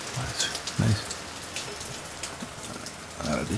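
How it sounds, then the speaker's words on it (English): Steady rain patters on a surface, a close, continuous hiss with scattered individual drops, in the Azores. "I don't mind the rain. Keeps everything green."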